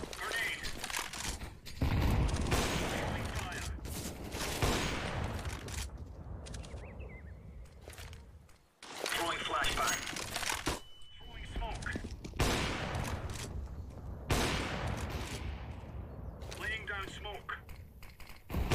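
Rapid bursts of gunfire come from an online shooter game, sharp and repeated in clusters, mixed with keyboard clatter while players talk excitedly over them.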